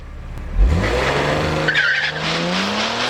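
An Audi SQ5 with stage 1 tune on 93 octane launches hard at a drag strip with a brief tire squeal and a loud rising engine roar that climbs steadily as it accelerates away, close and continuous.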